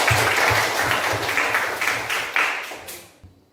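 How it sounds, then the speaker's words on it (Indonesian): Classroom of students applauding their group, a burst of many hands clapping at close range that thins out toward the end. "Tepuk tangan untuk semua."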